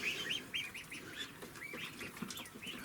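Several ducks quack steadily in a close, busy chorus over faint outdoor noise at a village homestead.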